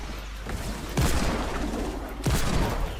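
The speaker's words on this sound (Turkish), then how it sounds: "Bombardıman yapıyorlar." Heavy barrage of gunfire in the online shooter Zula, dense crackling bursts that swell at about one second and again near two and a quarter seconds, loud and close, with no talking.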